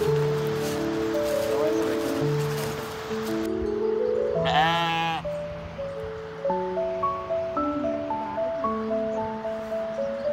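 Sheep bleat repeatedly at a pen near Api Himal base camp in Darchula, with a loud cluster of calls early on, then many shorter bleats overlapping through the rest, and some talking mixed in at the start.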